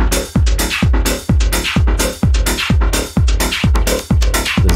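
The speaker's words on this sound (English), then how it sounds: "I used the spectral resonator to kind of resynthesize the vocoder to make it sound more vocoder-y" A punchy drum loop of repeated booming kicks and hits, each smeared into a buzzy, robotic vocoder-like tone, steady and loud with no voices.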